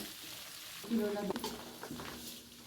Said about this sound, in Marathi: खमंग फोडणी करायची पोह्याच्या चिवड्यासाठी आता त्यात लसूण तळल्याला घालून घ्यायचं